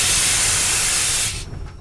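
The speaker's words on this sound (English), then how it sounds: "When Henry reached the platform, the water was boiling nicely, and he had to let off steam." An animated steam locomotive lets off steam in a loud, sustained hiss that cuts off sharply near the end, leaving a faint rumble.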